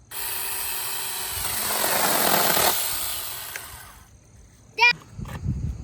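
A cordless saw whines and rasps through a tree branch for a few seconds, then stops; a brief squeak and some rustling follow, with a voice nearby.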